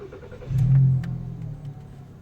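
A Volkswagen car engine cranks and catches during a smog test, swelling into a short rumbling rev at close range before settling to a lower idle.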